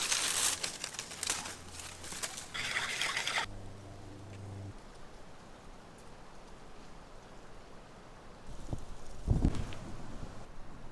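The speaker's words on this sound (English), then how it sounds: "pull up some beach limbs and zip tie them around me" Beech limbs are handled and zip tied into a ground blind on a wooded Alabama ridge during bowhunting: close crinkling leaf rustle and snapping twigs in bursts, a quiet stretch, then another brief rustle near the end.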